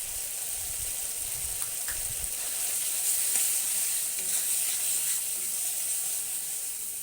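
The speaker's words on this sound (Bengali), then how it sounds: "মশলাটাকে একটু খুব ভালো করে ভেজে নেব তেল ছাড়া পর্যন্ত।" A spice masala of turmeric, Kashmiri chili powder and salt fries in oil for egg kofta curry, giving a steady, close hiss of sizzling with a few faint stirring knocks near the start.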